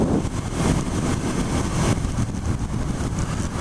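Suzuki SV650 motorcycle engine running steadily and fairly loud throughout, a continuous rumbling drone with slight swells that may mark a gear change, no talking.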